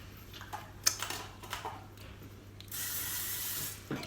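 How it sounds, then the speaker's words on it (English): A steady hissing spray from an aerosol cooking spray can greasing baking tins lasts about a second, preceded by a few light clicks and taps nearby. "So let me spray"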